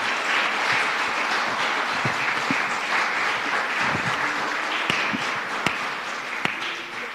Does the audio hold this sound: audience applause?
yes